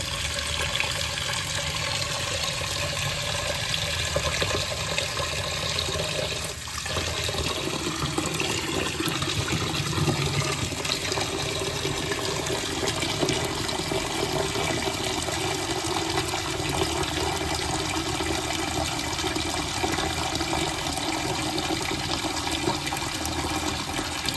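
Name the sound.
water poured over lentils for soaking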